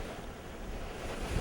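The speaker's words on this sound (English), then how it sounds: "waves crashing from every which angle" Wind-driven waves crash around a paddled boat on Lake Sakakawea amid six-foot swells, a steady loud roar of surf and wind noise with a heavier surge near the end, no voices.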